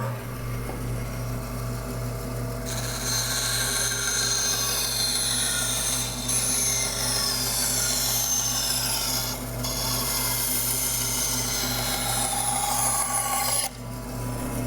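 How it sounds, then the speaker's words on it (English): A bandsaw cuts through a wood blank in a steady, loud, continuous drone with a rough rasping edge and a strong low hum underneath, close, with no talk. "I usually cut it along here with the bandsaw"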